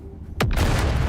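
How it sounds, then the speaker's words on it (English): Bomb exploding in the game Dune: Awakening, a sudden close, loud boom after a quiet moment, followed by a sustained rumbling roar of debris. "Oh, there's a bomb."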